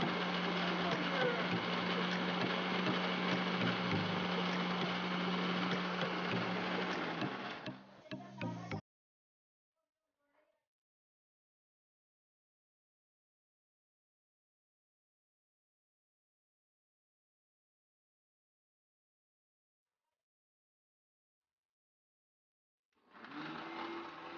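An electric mixer grinder whirring as it grinds a spice paste in a Konkan home kitchen, a loud steady motor drone with a low hum that cuts off, followed by a long silence before it briefly restarts.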